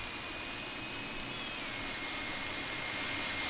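A lightweight 3-channel park flyer RC plane flies in the RealFlight Evolution simulator game, a steady high-pitched electric motor whine that shifts pitch slightly partway through, continuous and fairly loud with no talking.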